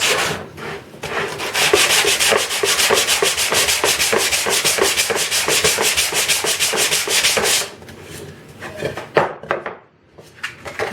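Hand sanding with a sheet of 100 grit sandpaper, a fast rhythmic rasping of back-and-forth strokes for about seven seconds, close and loud, followed by a few slower scrapes and handling noises.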